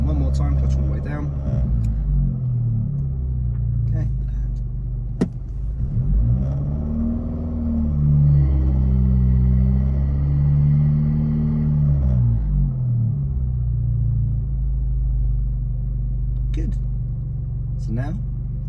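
A manual car sitting stationary in neutral with the handbrake on, its engine idling as a steady low rumble with a slight rise in revs partway through, under continuous talking.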